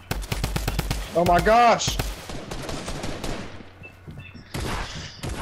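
Rapid bursts of gunfire from a battle royale video game crackle through the clip, dense volleys under an excited voice that exclaims over the action.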